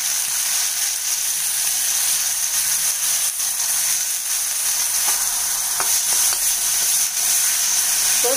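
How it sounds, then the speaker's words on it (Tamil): Ground onion paste sautés in hot oil with fennel seeds and curry leaves, giving a steady, even sizzle throughout with a few faint stirring clicks near the end and no talking. "இப்போ வெங்காயத்தை கொஞ்சம் நல்லா வதக்கிக்கணும்."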